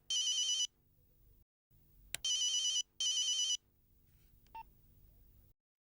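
Late-night telephone ringing in bright electronic bursts, three rings with gaps between them, followed by short beeps and quiet room noise, with no one talking.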